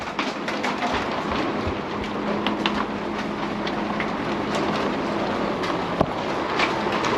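Severe thunderstorm hail pelts a Tiffin Allegro Bus motorhome in Hardin, Montana: a dense, continuous clatter of small impacts on the roof with sharper individual hits scattered throughout, heard from inside without talk.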